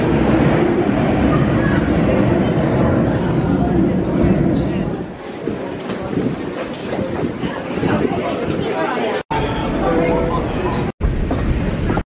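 Rumbling London Underground train noise fills the platform, steady and loud, easing slightly midway, with faint crowd chatter in the background.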